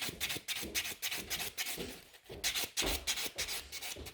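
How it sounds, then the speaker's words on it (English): Gel nails being buffed with a nail buffer during an infill on grown-out nails, a close, steady scratchy rubbing in repeated strokes with brief pauses between passes. "So I'm always starting buffing with the middle part of the nail where I can buff much faster."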